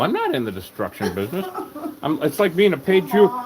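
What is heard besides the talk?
None of the usual background noises is heard.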